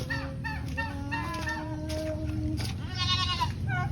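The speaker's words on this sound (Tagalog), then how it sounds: "Mga alaga kong kambing." Goats bleat in a few short wavering calls over a busy farmyard background, with a louder, shakier bleat near the end.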